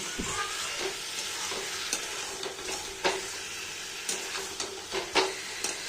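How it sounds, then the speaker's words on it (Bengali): Boiled egg and potato being sautéed in a pan with a little oil and spice for a duck egg curry, a steady sizzle broken by repeated scraping stirs of the spatula at close range. "ডিম আলু বয়েল করাটা দিয়ে দেবো। এবার এটাকে আমি ভালো করে কষিয়ে নেব।"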